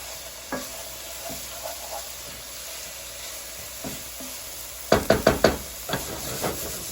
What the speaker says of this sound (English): I'm going to let this saute for maybe another 3 more minutes or so